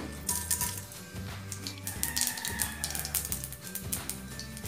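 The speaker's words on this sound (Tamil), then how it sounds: "எண்ணெய் நல்லா காஞ்சிருச்சு. இப்போது கடுகு உளுத்தம் பருப்பு கொஞ்சம்" Mustard seeds and urad dal hitting hot oil for a sambar tempering give a dense, continuous sizzle with scattered crackling pops, close and fairly loud, without speech.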